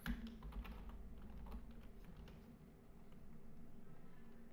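Python code typed on a computer keyboard, with quick, irregular clicks of keys close by and fairly faint, a few sharper taps near the start, and no talk.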